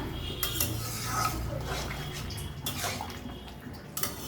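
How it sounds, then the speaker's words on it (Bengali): Water being poured into a small-fish curry in a pot, making a steady running splash with light clinks of pots and utensils, heard near and without voices. "তাই অল্প একটু জলই দিলাম"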